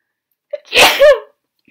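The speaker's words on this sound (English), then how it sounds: "I don't normally even sneeze that loud" A single loud, close sneeze with a quick intake of breath before it, then silence.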